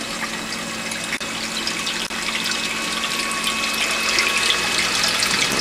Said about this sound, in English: External pump.